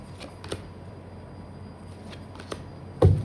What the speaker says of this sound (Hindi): मैं 2 कार्ड और निकालूंगी बस।